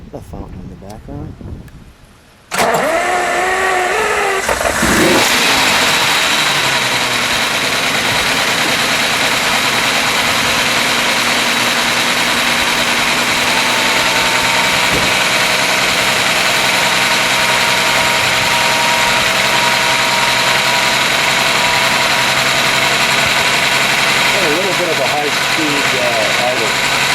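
A 1965 Lamborghini 350 GT V12 cranks and catches after a brief quiet start, then settles into a steady, loud idle with a continuous mechanical hum that holds close and even for the rest of the clip.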